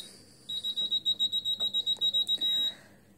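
A fire alarm system sounds during a test, giving a fast run of about a dozen loud, evenly spaced electronic beeps, then a short sustained tone before stopping.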